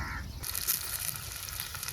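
A sudden burst of sizzling as chopped onions hit hot oil, then a steady close-up crackle of frying.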